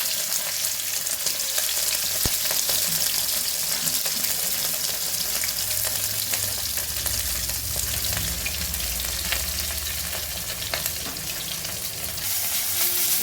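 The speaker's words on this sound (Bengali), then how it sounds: "মাছের মাথাটা ভাজা হয়ে গেছে" A small fish head fries in hot oil in a pan, a dense continuous sizzle heard up close with light stirring noises and no voices.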